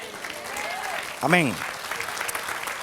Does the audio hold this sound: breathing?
no